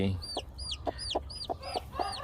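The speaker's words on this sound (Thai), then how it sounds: "นี่ก็ฟักตัวแล้วนะครับ ลูกไก่" Hens cluck in a steady series of short calls, mixed with high chirping peeps from newly hatched chicks, close by.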